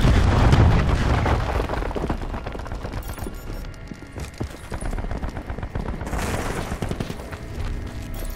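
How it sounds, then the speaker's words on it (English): A cluster grenade goes off in Call of Duty Black Ops 4 multiplayer, a burst of overlapping explosions crackling and rumbling loudly, then a rolling scatter of smaller blasts and debris that swells again toward the end. "Cluster grenade."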